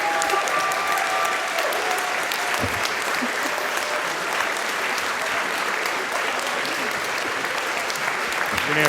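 A large crowd at the AGDQ 2015 speedrun charity marathon breaks into loud, sustained applause, a dense unbroken roar of clapping from start to finish of a standing ovation.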